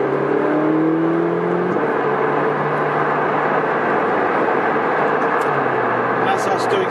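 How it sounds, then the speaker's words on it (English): Steady, loud broadband road and tyre roar from inside a Ferrari 458 Speciale cruising at about 70 mph on a motorway, with a low engine drone underneath and a brief tonal shift early on. "That's us doing 70. So there is a fair amount of road noise."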